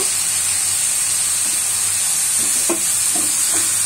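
Broccoli is stirred in a hot pan on a lowered stove flame, with steady frying hiss and sizzle throughout and a few soft scraping taps of the spoon toward the end.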